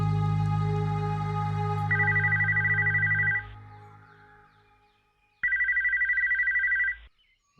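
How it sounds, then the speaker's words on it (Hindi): A household telephone rings in two long electronic bursts separated by a pause, loud and close, with a low hum fading out beneath the first ring. "इस घर में तो कोई फोन उठाने वाला भी नहीं है।"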